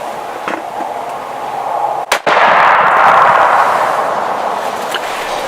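A single sharp deer-hunting rifle shot cracks out close and loud in the woods, followed by a short rolling echo decaying into quiet outdoor ambience.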